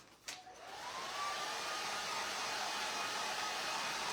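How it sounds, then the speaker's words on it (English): A hair dryer switched on to its low setting, used to warm and dry a craft transfer on a pumpkin decoration. It starts with a click, then settles into a steady, close, unbroken airy whoosh with no talking. "I'm just gonna hit it with my hair dryer on low"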